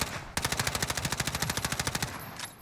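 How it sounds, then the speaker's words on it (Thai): Rapid automatic gunfire in Call of Duty Warzone rattles off in a steady stream of about twenty evenly spaced, sharp shots, loud and close, after a brief lead-in of background noise. "ยิงกันตุบตับตุบตับตุบตับเลยทำไมไม่เจอ"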